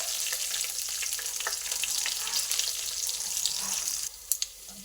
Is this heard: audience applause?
no